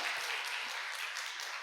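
Applause from a church congregation during a Sunday Easter worship service, a steady, fairly soft wash of clapping filling the whole stretch without any talk.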